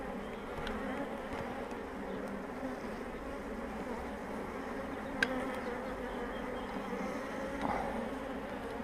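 Honeybees buzz around an open hive during a spring inspection, a dense, steady hum filling the clip with a few brief louder passes close by.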